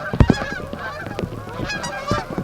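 A flock of geese honking as they land, several loud overlapping honks close by in quick irregular bursts, with fainter calls further off.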